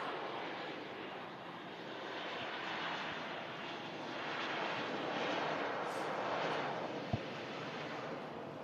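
An aircraft departs Manchester Airport, its jet engine roar a broad, sustained rumble that swells and fades gently over several seconds, heard from a distance outdoors with a faint wind-like wash and no speech.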